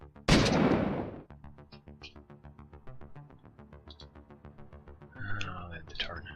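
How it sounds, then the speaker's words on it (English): A shotgun blast in the turn-based game Vigilantes, a single sharp loud report at the start followed by a rhythmic ticking pulse and later small clicks, with someone speaking quietly over it. "I'll just use the shotgun here"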